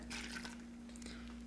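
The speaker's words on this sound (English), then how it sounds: "Now we're going to add 1 cup of warm water" Warm water poured into a bowl of mixed dry pizza dough ingredients, a soft brief liquid splash and trickle, quiet and close over a steady background hum.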